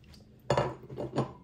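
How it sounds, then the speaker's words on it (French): Eggs are being mixed into batter in a bowl, giving a few close, clattering knocks and scrapes in quick succession after a quiet start. "on mélange entre chaque ajout"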